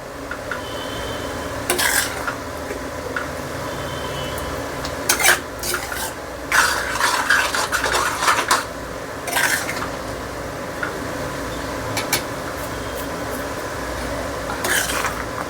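A Maharashtrian Bhogi mixed vegetable curry, salted, is stirred in a pot as it simmers, with a utensil scraping and clanking against the metal in irregular bursts over a low steady sizzle; no talking.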